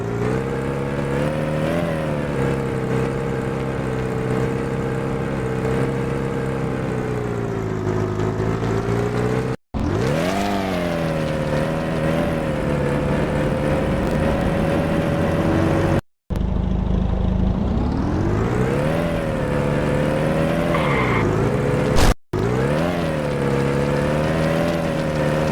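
A Chevrolet Niva's engine drones steadily in a car crash driving game, its revs climbing and dipping, with three brief cut-outs like gear shifts and no voices over it.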